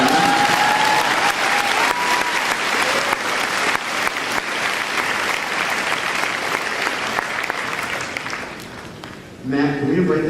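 An audience at a Brotherhood/Sisterhood gathering breaks into sustained applause, steady and fairly loud for several seconds, then fades as a voice returns near the end.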